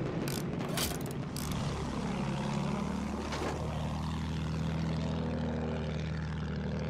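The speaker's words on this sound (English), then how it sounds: "I think our heavy bomber's gonna do that." A heavy bomber flies in the video game Battlefield 1, its propeller engines droning loud and steady with a sweeping pitch shift, and a few sharp bangs come early on.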